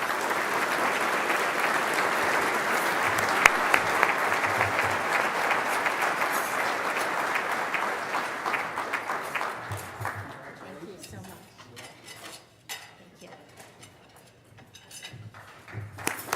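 Sustained audience applause at an awards luncheon for a teacher of the year, a dense, even roar of clapping that thins out into scattered claps near the end, with a voice speaking over it.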